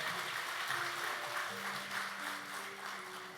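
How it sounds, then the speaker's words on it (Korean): Applause from a church congregation giving praise to God during a worship service, a steady broadband patter of many hands clapping together at moderate level, with a sustained musical tone underneath throughout. "하나님께 박수 영광 돌리겠습니다."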